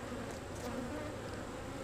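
A dense, continuous hum of honeybees at an open, fast-growing beehive, close and even throughout with no voices.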